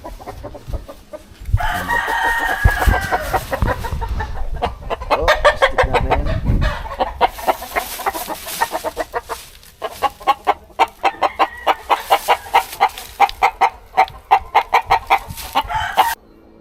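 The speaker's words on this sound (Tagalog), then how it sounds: "meron tayong manok ditong alaga kuhanan natin" Chickens cluck and a rooster crows nearby, followed by a run of rapid, rhythmic clucks and calls, loud and close, from backyard chickens.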